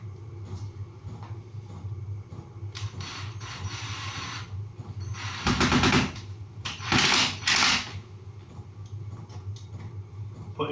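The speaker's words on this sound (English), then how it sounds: "Putting 5 screws in each strip, one at each end, one in the middle, and then one in between." Screws are driven into strips of a garage door made from sheet board such as OSB, MDF, ply or chipboard, with short bursts of screwdriver whirring at about 5.5–6 and 7–8 seconds over a steady low background hum.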